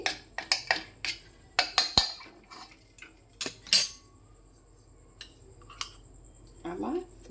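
A spoon stirring lapsi, a sweet cracked-wheat dish, in a metal pot, giving a string of sharp scraping clinks in quick bursts, close and fairly loud, with brief pauses and a softer patch near the end.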